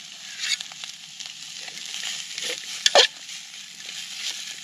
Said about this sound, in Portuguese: Agora vamos fritar isso aqui